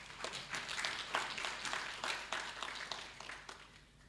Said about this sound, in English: Let's clap for UBOS and its leadership